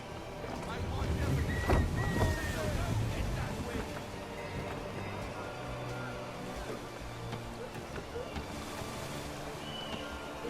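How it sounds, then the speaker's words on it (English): A sailing ship crosses open water in Assassin's Creed 3, with wind rushing and waves washing in a steady, fairly quiet roar. A faint voice talks under it. "Enjoy this stretch of open water before we come upon those shallows"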